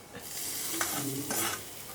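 Hot mustard-seed tempering oil sizzles and crackles close by as it is poured onto bilimbi pickle, with a couple of brighter bursts of spitting.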